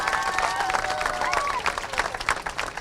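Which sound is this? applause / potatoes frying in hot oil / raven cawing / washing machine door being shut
applause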